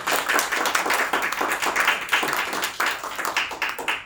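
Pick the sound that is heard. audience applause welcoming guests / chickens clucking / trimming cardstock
audience applause welcoming guests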